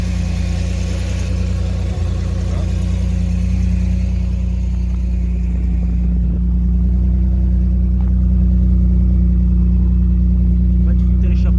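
A 1992 Pontiac Firebird with a newly fitted exhaust system idles nearby with a deep, steady, throbbing rumble, and a voice talks over the engine.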